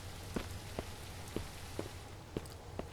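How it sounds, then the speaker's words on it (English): Steady rain falls in the survival video game Mist Survival, a soft continuous hiss with faint drop ticks at regular intervals over a low hum, fairly quiet with no voices. "So it looks like it's going to start raining."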